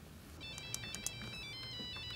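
A cell phone left on an office desk rings with a repeating electronic ringtone, bright tonal beeps sounding steadily and fairly close, with no talk over it.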